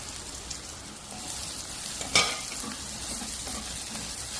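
Spices such as pepper powder sautéing in a pan for Kerala-style squid (koonthal) roast, a steady soft sizzle with faint stirring scrapes and one brief sharper clatter midway, no talk.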